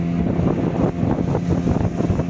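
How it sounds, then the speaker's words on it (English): A speedboat rides across the water with a loud, close rush of wind buffeting the microphone and a churning motor and splash roar, no voices. "He is riding by speedboat"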